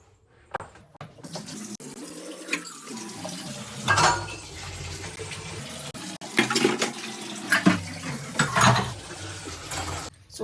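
Water rushes through pipes into a home bathroom, a steady gurgling flow with surges and splashy bursts, fairly close and continuous throughout, with no talking.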